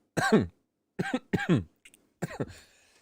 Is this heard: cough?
yes